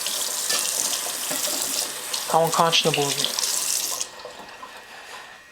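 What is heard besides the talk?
water tap running while rinsing a knife in the sink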